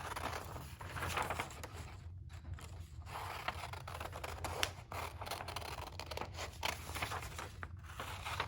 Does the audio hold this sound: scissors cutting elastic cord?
yes